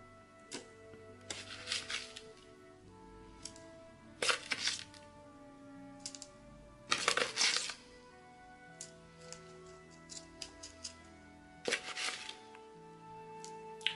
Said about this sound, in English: So now I've got that mixture of the coconut coir and grit. I'm going to add that to the pot.